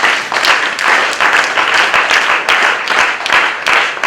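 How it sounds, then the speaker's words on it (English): A church congregation claps together in a rhythmic clapping offering, loud and close, with regular beats driving through the whole stretch and no talk over it. "Let's give the Lord a clapping offering"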